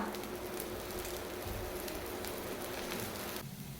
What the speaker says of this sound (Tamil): ராகி ரவா தோசை பண்ணுறதுக்கு தோசைக்கல்ல எண்ணெய் சேர்த்து வச்சுருந்தேன்